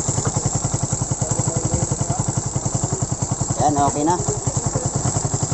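A Suzuki Raider 150 motorcycle engine runs after a loose cylinder head stud bolt was fixed, its steady pulsing idle close and continuous throughout while someone speaks briefly over it.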